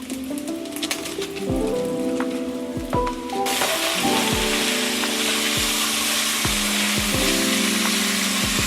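Thin Steak-umm beef sheets sizzle loudly in a frying pan, a dense steady hiss that grows stronger midway, with occasional clacks of a spatula against the pan and no speech.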